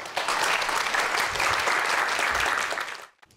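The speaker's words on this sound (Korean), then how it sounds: "여러분들 큰 박수로 강연 청해드리도록 하겠습니다" A studio audience applauds to welcome a speaker onto the stage of a youth startup lecture, a steady, full round of clapping lasting about three seconds before cutting off abruptly.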